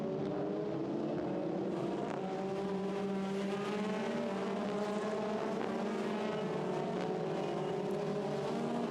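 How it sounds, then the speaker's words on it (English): Formula Renault 2.0 race cars accelerating away from the grid at the Nürburgring, a steady dense engine howl with rising harmonic tones as the pack climbs through the gears, loud and continuous with no voices. "blasts away now from the grid and sets off down towards turn 1"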